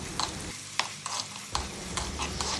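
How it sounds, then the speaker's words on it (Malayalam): Finely chopped garlic, ginger and shallots sautéing in hot oil for a Kerala-style fish curry, a steady close sizzle punctuated by several quick spatula scrapes. "എണ്ണ ചൂടായപ്പോൾ അതിലേക്ക് കുനുകുനാന്നരിഞ്ഞ് നമ്മുടെ വെളുത്തുള്ളിയും ഇഞ്ചിയും കൊച്ചുള്ളിയും"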